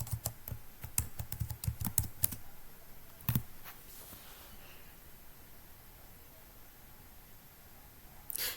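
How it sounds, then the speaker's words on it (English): A username and password are typed on a computer keyboard as a quick run of close, crisp key clicks, then one last cluster of taps before near silence. "Type Jill and then her password."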